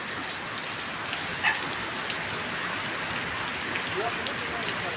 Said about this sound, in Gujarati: ધોધમાર વરસાદ પડી રહ્યો છે મિત્રો